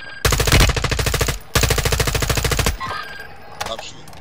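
Rapid automatic gunfire from the video game Call of Duty: Modern Warfare II, two long loud bursts of evenly spaced shots separated by a brief pause, then trailing off into quieter game noise.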